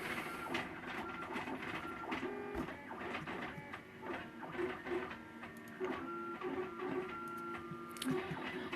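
A 3D printer runs a print-in-place fidget cube job, its stepper motors whirring and buzzing steadily in shifting tonal patterns with quick clicks, close and continuous, with no talking.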